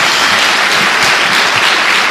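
Congregation in a church service applauding, a dense, loud, continuous wash of many hands clapping close by with no pauses.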